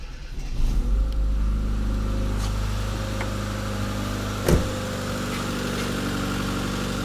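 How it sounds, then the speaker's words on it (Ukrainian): A car engine, just repaired, starts up near the listener with a loud initial burst and settles into a steady idle hum, broken by a single sharp knock partway through. "Запускаємо машину."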